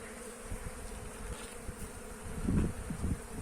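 Honey bees on a hive frame, a continuous close buzzing hum with bumps and handling knocks growing louder toward the end.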